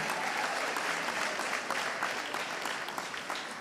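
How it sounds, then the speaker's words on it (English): Audience applause fills a pizza awards ceremony in Milan: dense, steady clapping from a large crowd, close and sustained throughout without a break, no voices standing out above it. "An applause for pizza."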